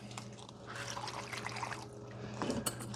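Water is poured into a seedling tray of transplanted cabbage starts for bottom watering, a faint, soft trickle and dribble with small splashes near the end.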